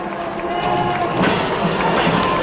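Fans at a high school football game between the Riverview Rams and Palmetto Tigers cheer during a big fourth-quarter third down, a broad crowd roar that swells louder about halfway through and stays up.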